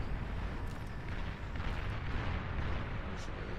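The Ragnarok big cannon fires in the strategy game Beyond All Reason, a dense wall of deep, rumbling blasts and crackling booms that rolls on without a break for several seconds.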